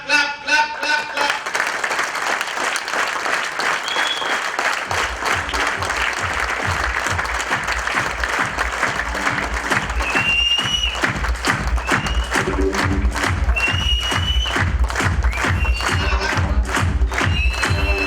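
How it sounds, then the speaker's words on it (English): An audience applauds steadily for about eighteen seconds, with dense clapping that turns into loud, rhythmic unison beats partway through, plus scattered cheers and voices. "Clap, clap, clap, clap, clap."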